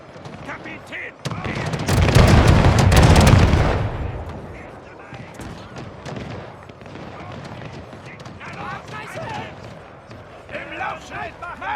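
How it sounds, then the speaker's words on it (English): Smoothbore musket volleys in the Pike & Shot Total War multiplayer battle game, a loud massed roar of firing swelling for a couple of seconds, then scattered crackling shots that continue under steady commentary talk. "just both sides firing volleys into each other, hoping that with their smoothbore muskets, someone might hit something every 100 shots"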